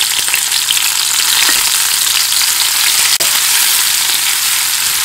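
Finely chopped capsicum frying in hot oil with garlic for a homemade pizza sauce, a steady loud hiss and sizzle throughout, with a single brief click of a utensil partway through.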